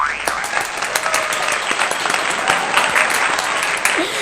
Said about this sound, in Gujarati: તાળીઓના ગણગણાટથી વધાવી નાખો